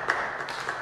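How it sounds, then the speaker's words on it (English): Applause from a political debate audience in New Britain, Connecticut: a short, steady burst of clapping from a crowd, fairly distant and even, with no talking over it. "Please hold your applause."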